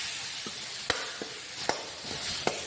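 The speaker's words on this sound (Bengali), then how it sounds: "মশলাটা কষিয়ে নেবো হালকা করে" Spice masala with turmeric and cumin powder being fried in a pan, a faint, even sizzle punctuated by several quick spoon scrapes at irregular intervals, with no voices.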